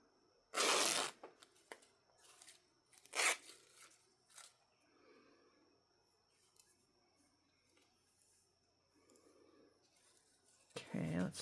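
Scissors snip through paper in a few quick, crisp cuts, close and fairly loud against a quiet room, separated by stretches of soft handling noise and a person talking.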